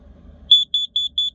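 A carbon monoxide detector mounted in a van beeps through its self-test: four short, piercing, high electronic chirps in quick, even succession, loud and close over faint low background rumble.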